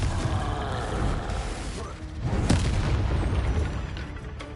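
A deep booming blast from the Confringo explosive spell in the video game Hogwarts Legacy rumbles loudly, swelling midway through the clip with a sharp crack before a long low roar.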